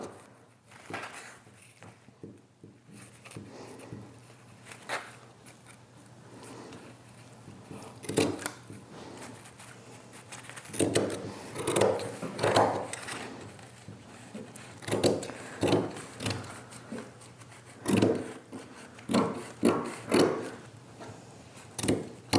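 Scissors snipping burlap around a bunny shape on a tabletop, a steady series of close crisp cuts that grows busier and louder toward the end.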